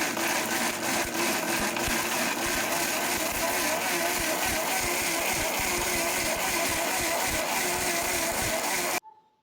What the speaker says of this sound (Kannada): ಇವಾಗ ಇದನ್ನೆಲ್ಲ ಚೆನ್ನಾಗಿ ರುಬ್ಕೊಂಡು ಬರೋಣ